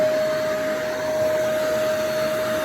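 An upright Riccar vacuum cleaner runs with a steady whine and broad airy roar, holding a constant level throughout with no talking.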